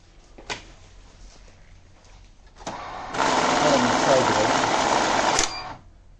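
A Hitachi IH-110 mixed money counting machine runs through a batch of banknotes with a steady, loud whirring rush for about two seconds and then stops, with a click before it and soft clicks around it.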